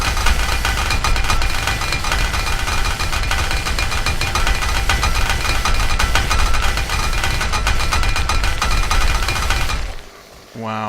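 Chainsaw in the zombie survival game 7 Days to Die, a loud, steady buzzing engine drone with rough vibration running nonstop for about ten seconds, then cutting off abruptly into quieter background.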